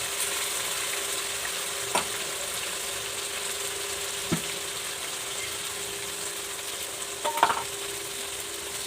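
Onion, garlic and ginger paste frying in a pan, a steady, even hiss of sizzling oil with a few sharp knocks of a spoon stirring, close and continuous with no talk.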